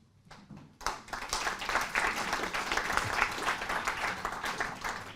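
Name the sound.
audience applause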